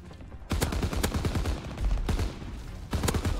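Bursts of KG M-21 assault rifle fire in Call of Duty WW2, four sharp volleys of rapid shots spaced about a second apart, loud and close with no talking.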